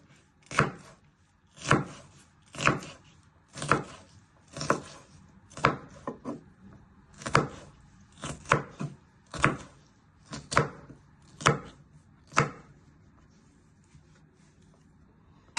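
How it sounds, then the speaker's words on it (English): A knife chopping a pepper into little pieces on a board, about a dozen crisp, evenly spaced chops close up, slowing and then stopping. "Then you turn it back round and chop it into little pieces"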